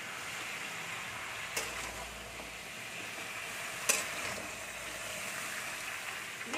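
Mixed vegetables are stirred in a hot pan, a soft steady sizzle with two distinct scraping knocks of the spoon against the pan.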